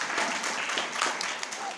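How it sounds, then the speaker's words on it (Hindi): A church congregation claps and applauds in a brief, dense burst of hand claps at moderate distance, filling the whole moment without pause. "इसके लिए ताली बजा दो।"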